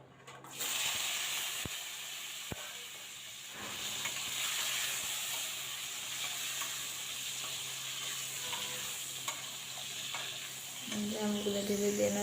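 Mango pieces being stirred in a pan with a five-spice tempering give a steady, close sizzle and hiss, broken by a few sharp spatula clicks and scrapes. No one speaks.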